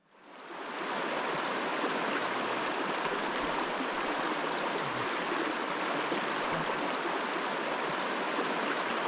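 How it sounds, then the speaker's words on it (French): A river rushes steadily nearby, a loud, continuous broadband hiss of flowing water in an outdoor setting that holds unbroken throughout. "il y a une belle rivière qui nous attend"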